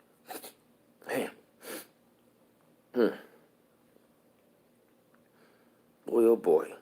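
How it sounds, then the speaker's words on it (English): One person sneezes forcefully several times, with short bursts spaced by quiet pauses and a louder final sneeze close to the mic. "That was a strong sneeze."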